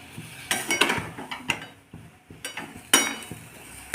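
A spoon scrapes and clinks against a wok while mango chutney is stirred, giving a run of irregular close metallic knocks and scrapes with a few sharper clanks.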